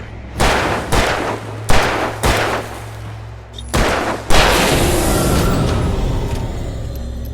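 Gunfire in the video game Alan Wake Remastered: four or five sharp, loud shots at irregular intervals over a low steady hum, then a final blast that rolls into a long reverberating roar.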